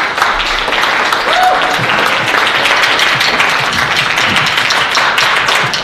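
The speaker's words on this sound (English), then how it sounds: "Let's give her a round of applause." Sustained, loud applause from a crowd at an arts-in-education celebration for a school music teacher, dense clapping filling the whole stretch at an even level.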